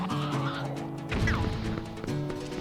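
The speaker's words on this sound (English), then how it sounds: "We have a chicken." A cucco chicken in Zelda: Twilight Princess clucks and squawks in a short burst, fairly close, over steady game background music.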